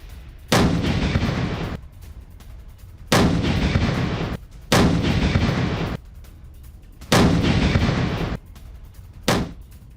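Heavy gunfire from a Ukrainian attack on a Russian T-72 tank near Kupiansk: five loud, booming blasts, each with a roaring tail of about a second, spaced roughly every one and a half seconds.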